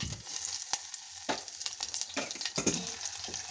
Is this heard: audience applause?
no